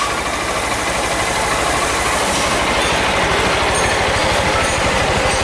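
Honda Titan 160 motorcycle from a driving-school fleet idling after a battery fault, a steady low engine throb with rapid even pulsing, loud and close, running alone with no voices.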